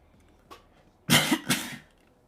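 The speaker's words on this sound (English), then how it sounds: "sorry for coughing" A faint throat sound, then two harsh, loud coughs in quick succession, close by.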